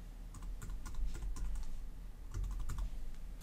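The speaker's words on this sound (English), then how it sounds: "Now, just type in the word or words that you want to search for." Quick clicking keystrokes on a computer keyboard while a search is typed into Google Chrome's bookmark search, with a steady, close patter of taps in short bursts.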